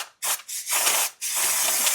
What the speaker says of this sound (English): Gonna spray a little